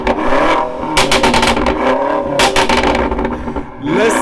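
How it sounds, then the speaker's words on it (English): BMW M5 Competition engine revving hard through an M Performance exhaust, with repeated loud blips and roaring surges close to the microphone, rising and falling over a few seconds with no talk. "We're gonna get a sound clip of the M Performance exhaust. Let's go, let's give it a rev."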